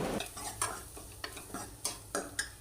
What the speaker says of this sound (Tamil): சேர்த்துட்டு நல்லா அது எண்ணெயிலே நல்லா கலந்து விட்டுக்கோங்க